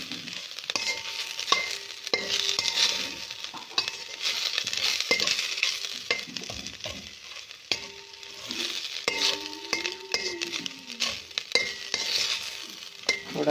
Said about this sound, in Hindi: घी के अंदर मैंने इसे भूनना है थोड़ा सा